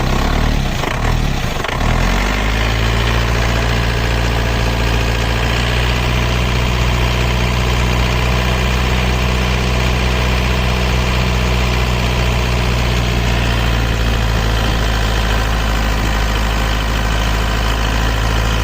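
An Isuzu Panther 2.5-litre diesel car engine idles loud and close, a steady low rumble with a constant throb that runs unbroken after a brief rev-like disturbance at the start.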